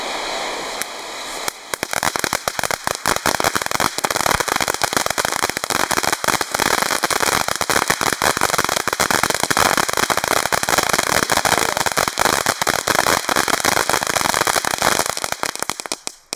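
A Devil's Shot fireworks battery fires a long, unbroken barrage of loud, rapid crackling bursts for about fifteen seconds, then cuts off sharply at the end.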